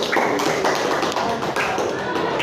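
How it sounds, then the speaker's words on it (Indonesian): A classroom of students applauds their classmates with steady, dense clapping that holds for the whole stretch, close and lively with no pauses. "tepuk tangan dulu untuk kawannya yuk"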